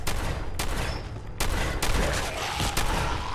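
Gunfire in the video game Fallout 4, several loud sharp shots at irregular intervals over a dense, booming combat background, about five or six reports in under four seconds.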